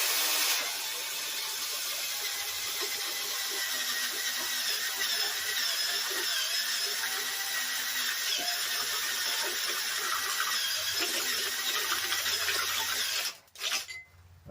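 An old Black & Decker drill fitted with a Christmas tree step bit, running steadily with a loud, high, whining motor tone for about thirteen seconds before it stops abruptly.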